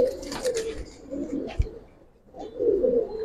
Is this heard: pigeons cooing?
yes